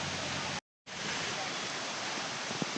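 Steady rain pouring down on a small home garden, a dense even hiss that drops out briefly and then returns, close and full.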